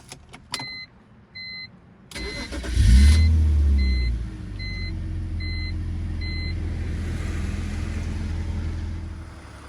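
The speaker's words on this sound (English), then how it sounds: "While the engine's doing its thing" A BMW E46 330i with its straight-six engine starts up in a garage and settles into a steady, low idle rumble. Some faint clicks and electronic chimes come before the start, and a brief revving swell follows it.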